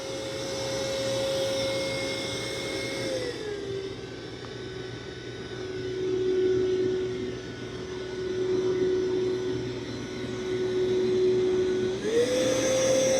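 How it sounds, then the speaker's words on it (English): A MOVA Z60 Ultra Roller robot vacuum cleans a carpet on max plus suction, its motor a loud, steady whine and rush that drops in pitch for a long stretch, then ramps back up, running alone without talk. "let's see how the MOVA Z60 Ultra Roller is going to clean up this big mess on the carpet"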